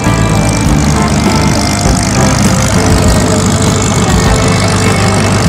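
Aircraft engines roar continuously at an air show in Avignon as a formation of planes performs overhead, a loud, steady drone filling the air with no voices.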